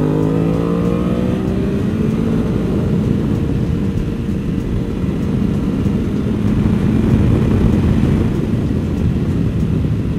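2024 BMW M1000R motorcycle engine, close and loud, with a rising rev at the start settling into a sustained strong engine roar that holds steady throughout, with no talk.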